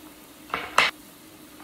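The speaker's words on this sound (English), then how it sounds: "I'm gonna go ahead and put some green onions in here." Green onions tossed into a hot pot, giving two short bursts of sizzling and stirring followed by a third brief burst near the end, close and fairly quiet with no talk.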